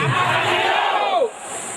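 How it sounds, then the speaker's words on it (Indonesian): A team-building outbound group in 2015 jumps forward while shouting a company name in unison, a loud, close crowd yell that holds for over a second and then drops into lingering chatter. "pada saat instruksinya ke depan melompat sambil meneriakkan Nafasindo"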